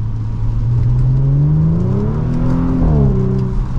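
A 2024 Acura TLX Type S exhaust note under acceleration, a loud, steady engine drone that climbs in pitch as the car pulls harder, close and continuous with no talk.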